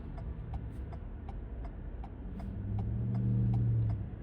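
A Ford Maverick hybrid pickup truck driving through Lexington, Kentucky: a steady, moderate road and engine hum from inside the cab, with a low drone swelling louder near the end.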